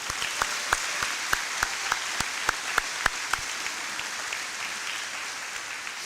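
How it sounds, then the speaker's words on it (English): Graduation ceremony audience applauding with steady dense clapping, loud and sharp individual claps standing out over a broad wash of hand noise, tapering off toward the end. "Please, a round of applause for these very important individuals."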